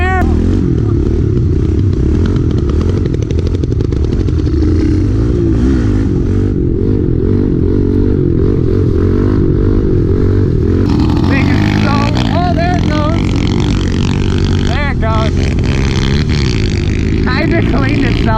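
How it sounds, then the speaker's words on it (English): Pit bike engine idling roughly and revving, loud and close, with popping backfire bursts in the latter half while people talk over it. "Oh, you see that backfire?"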